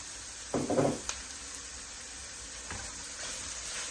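Mushrooms and vegetables frying in a pan for vegetarian Filipino pancit canton, a low steady sizzle with a short louder burst of stirring and scraping, heard close and fairly quiet.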